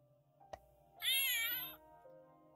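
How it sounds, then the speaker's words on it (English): Exploding Kittens card game box playing a recorded meow when opened: a sharp click, then a single clear electronic cat meow lasting under a second, close and fairly loud in a quiet room. "you open up Exploding Kittens and it does this little meow"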